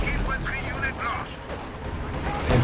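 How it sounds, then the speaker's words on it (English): Heavy B4 howitzer shots boom in a Company of Heroes 2 battle, several deep blasts landing in quick succession amid the rumble of combat, with a voice faintly present. "Oh man, B4 shots. Whoa! 3 B4 shots in a row."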